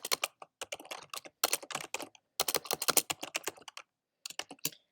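Close, crisp keystrokes on a computer keyboard come in quick uneven bursts while code is entered, with brief pauses between runs of typing.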